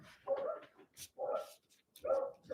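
Dogs bark in three separate bursts of short yapping barks, moderately close, with brief quiet gaps between them.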